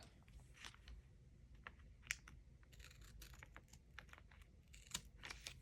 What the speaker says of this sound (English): Let me grab my scissors and do a little trimming real quick.